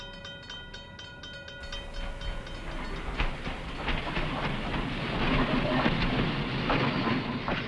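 A North Shore Line electric train pulls into Kenosha station, its rolling rumble and rhythmic wheel clicks building steadily, with tonal whine early on fading into louder mechanical clatter as it approaches.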